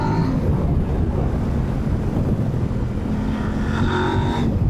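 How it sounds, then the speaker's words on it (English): A Kove 800X Rally motorcycle's engine runs continuously under strong wind rush, a steady loud drone with a slight pitch rise near the end, heard from the rider's position while moving. "Wow, the engine is just a peach."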